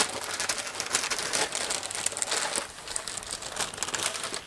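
Foil or wrap crinkles and crumples in close, uneven bursts as a smoked pork shoulder gets double wrapped and its sides are folded in. The handling is quiet and continuous, with no voices.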